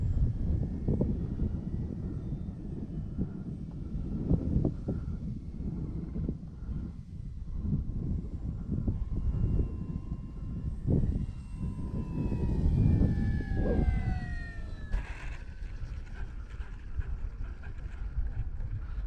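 An FMS PC-21 Pilatus RC model airplane flies at full throttle, its engine drone rising and falling as it passes, with buffeting wind noise and a whining pitch sweep near the end.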